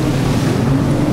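An Evinrude outboard motor boat drones loudly and steadily, close up, with wind rushing across the microphone and water noise underneath.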